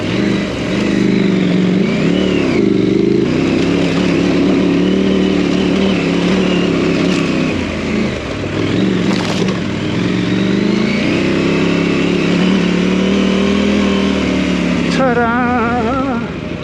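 A 250 dirt bike engine drones and revs steadily while riding a rooty trail near a hang glider launch, loud and close throughout, with a rider's voice talking over it.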